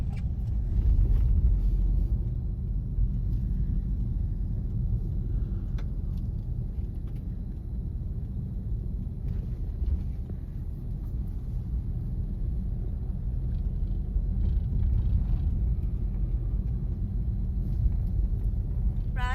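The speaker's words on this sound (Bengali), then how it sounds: "খুলে ফেলে এখন একটু কারে করে ঘুরছি" Car interior while riding through quiet Mumbai streets at night: a continuous low road and engine rumble, steady and close throughout, with faint light rattles on top.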